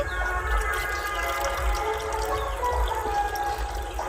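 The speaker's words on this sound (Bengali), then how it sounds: "এই যে চার বাটি জল দিয়ে দিলাম" Water pours steadily into a pan of sugar to make syrup for rasgulla, a continuous close trickling and splashing that runs without a break, with no voices.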